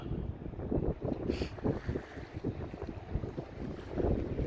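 Wind blows in steady low rumbling gusts against the microphone at a riverside sea wall on the Humber while fishing, loud and continuous with no talk.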